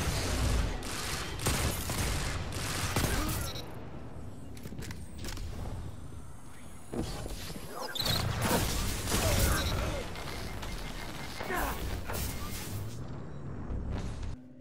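Hand cannon gunfire in Destiny 2 multiplayer combat, repeated sharp loud shots in bursts with mechanical clicks and reload noises between them.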